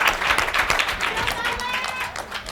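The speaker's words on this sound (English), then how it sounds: "Big round of applause." Applause and clapping from an audience at a business coaching mastermind event, a steady burst of dense hand claps with crowd noise throughout.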